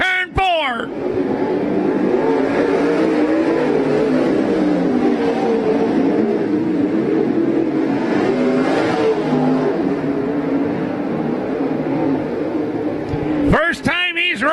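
Race cars roar around the oval at Cottage Grove Speedway, a steady dense engine drone holding for most of the stretch with swelling passes, loud and continuous, while an announcer's voice is heard only at the start and end.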